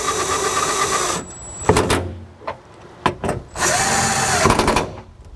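A power drill tightens the bolts on a 2016 Subaru Forester rear windshield wiper, whirring loudly in several separate bursts of varying length with quiet gaps between them.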